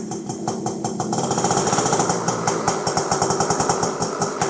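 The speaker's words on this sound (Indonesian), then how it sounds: "Suara mesinnya pun juga masih halus, terus juga mesinnya masih kering" An old used motorcycle at a secondhand dealer is revved with the throttle, its engine chugging in a rapid, steady beat that climbs slightly and holds, loud and close with no voices.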